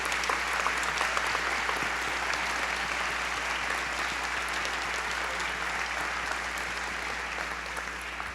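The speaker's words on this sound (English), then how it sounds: "give them a round of applause" Steady, dense applause from an audience at a school system awards ceremony honoring school board members, continuing evenly for about eight seconds.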